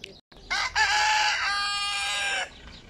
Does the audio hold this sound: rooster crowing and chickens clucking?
yes